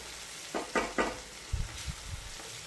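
Tomatoes fry in a pan for a mint puffed-rice snack, giving a steady close sizzle broken by three quick scraping stirs and then a few soft low knocks of the spoon against the pan, with no voices.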